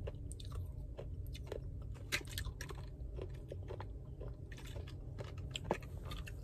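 Hard Dragon Ball Z Senzu bean candies chewed up close, with steady crunching and biting that crackles irregularly, and no talking.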